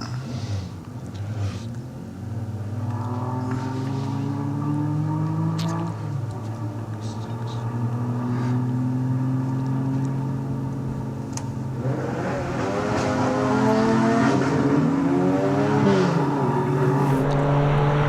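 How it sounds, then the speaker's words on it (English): Norm Goodall's Porsche race car charges up a hillclimb course, its engine note climbing and shifting through gears in long rising sweeps, loud and steady, growing fuller toward the end. "the Porsche of Norm Goodall is charging up there now"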